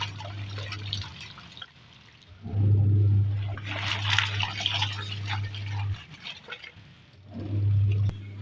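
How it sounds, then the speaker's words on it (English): Clothes being washed by hand in water at home, with splashing, dripping and sloshing in bursts, over a steady low hum and some background noise, no speech. "The washing clothes."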